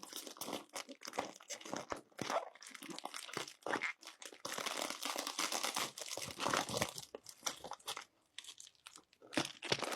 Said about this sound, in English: The new housing from China's arrived in this air-filled package, so let's cut it open and see what's inside.